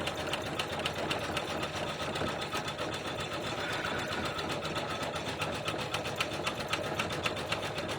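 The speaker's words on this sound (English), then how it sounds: "I'm just going to run this little zigzag stitch that kind of holds everything down" Sewing machine stitching a light-density zigzag to hold fabric pieces together, a steady rapid mechanical chatter running close and continuous throughout.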